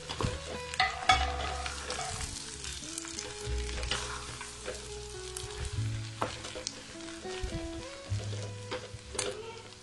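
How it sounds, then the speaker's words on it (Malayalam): Boondi being stirred into sugar syrup with ghee, cashews and raisins for laddu, giving a steady close scraping and sticky sizzling with irregular clicks of the spoon against the pan, no voices. "ഇനി ഇതിലേക്ക് നമുക്ക് നേരത്തെ ചെയ്ത പോലെ 1 ടീസ്പൂൺ നെയ്യും അണ്ടിപ്പരിപ്പും കറുത്ത മുന്തിരിയും ചേർത്തിട്ട് നന്നായിട്ട് മിക്സ് ചെയ്തെടുക്കാം"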